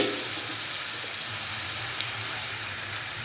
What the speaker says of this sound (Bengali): এখানে অল্প একটু জল দিয়ে দিচ্ছি মশলা কষানোর জন্য।